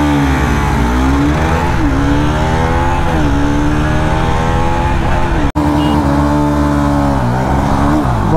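Bajaj NS200 and Honda CB 300F motorcycles launching in a drag race, engines loud and close as they rev and climb through the gears in rising sweeps, with a brief break near the end.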